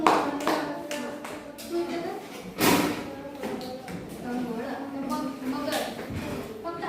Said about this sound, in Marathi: प्रत्येक अक्षराची टाळी येणार आहे ना?